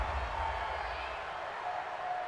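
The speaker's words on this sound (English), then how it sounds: "this crowd does not like that call" A stadium crowd at an NFL game between the Green Bay Packers and Carolina Panthers roars disapproval at a roughing the passer penalty, a loud, steady wash of crowd noise that holds throughout.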